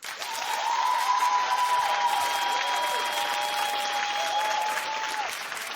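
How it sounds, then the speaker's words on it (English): A studio audience claps steadily on a daytime talk show, a dense, even wash of applause lasting several seconds with a faint sustained tone running beneath it. "Clap if you agree with Phaedra not bringing the kids"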